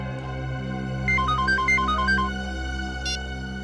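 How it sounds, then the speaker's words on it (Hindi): A phone rings in a Hindi CID police drama scene: a short electronic melodic ringtone of repeating beeping tones over a steady background hum, followed by a brief high chirp, with no talking. "एसीपी सर का फोन था।"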